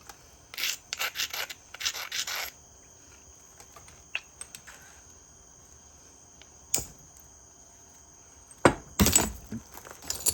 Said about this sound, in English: I ain't got no choice but to bevel it a little bit more where I can get a flake in there